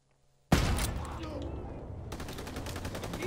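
Rapid bursts of rifle and machine-gun fire in a Call of Duty: WW2 campaign battle, loud sustained volleys starting abruptly after a brief quiet moment and continuing in rapid repeated shots.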